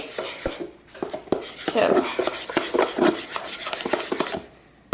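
A utensil mixes eggs and vanilla extract for whole wheat brownie batter, scraping and clinking rhythmically against the bowl at close range, with a voice briefly speaking.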